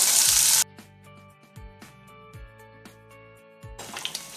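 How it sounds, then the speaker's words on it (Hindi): Two medium onions frying in a pan until light brown; a burst of loud sizzle at the start, then quieter clinking taps of a utensil, before the sizzle returns at the end. "अब इसमें 2 मीडियम साइज का प्याज लेंगे, इसे भी डाल देंगे। और इसे हल्का ब्राउन होने तक भूनेंगे।"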